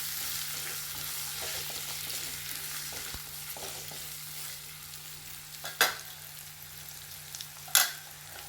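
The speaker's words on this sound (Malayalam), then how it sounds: "നന്നായി ഇളക്കി കൊടുക്കാം." Beef fry with five finely chopped green chillies hisses softly in a pan as it is stirred, two sharper scraping strokes standing out near the end, close and without speech.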